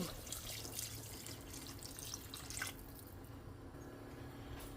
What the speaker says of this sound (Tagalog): magdadagdag lang ako ng tubig kasi mga bata mahilig sa sabaw